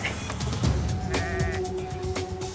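Sick sheep bleat in a noisy outdoor setting, a few wavering calls mixed with scattered clatter and background bustle, with no talk.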